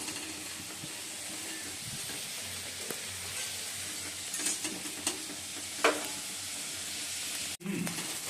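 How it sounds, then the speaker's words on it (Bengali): Potato pieces frying in hot oil in a Bengali home kitchen, a steady broadband sizzle with occasional pops and a couple of stirring scrapes, close and continuous, with a brief dropout near the end. "আলুগুলো একটু ভেজে নিচ্ছি"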